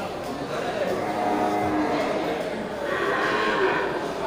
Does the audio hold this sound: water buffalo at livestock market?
yes